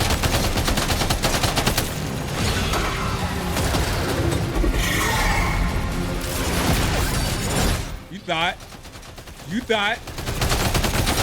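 Rapid gunfire in Death Stranding 2 while fighting a large predator, with dense, sustained shots running through most of the stretch, then a brief lull with sweeping tones before firing resumes; a voice speaks briefly.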